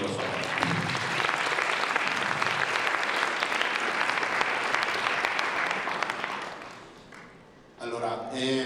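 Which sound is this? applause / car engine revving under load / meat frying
applause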